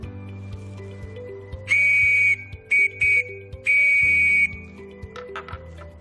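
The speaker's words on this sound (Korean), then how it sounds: "한번 호루라기로 불어보도록 하겠습니다." A whistle blown as a scout assembly signal sounds close and loud as one long blast, two short toots and another long blast, over a quiet low background.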